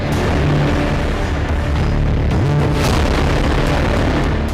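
Dense, continuous crackle and booming of firecrackers bursting in Delhi on Dussehra, loud and overlapping without a pause, with no voices.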